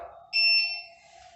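A Trimos height gauge sounds its electronic alarm at the reversal point, a single short, steady high-pitched beep, clear and close in a quiet room.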